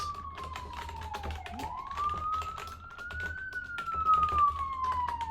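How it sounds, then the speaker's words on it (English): A police siren wails steadily outside, its pitch sliding down then rising and falling, with faint keyboard typing and room noise beneath. "Don't mind the sirens outside."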